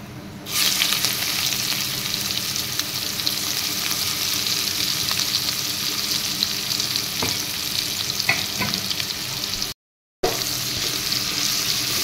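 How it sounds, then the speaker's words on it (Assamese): Onions frying in hot oil for a chicken curry with cabbage: a loud, steady, hissing sizzle starts abruptly and holds close throughout, with a few faint clinks and a brief cut near the end. "এই তেলতে মই এতে পিয়াজখিনি দি দিম"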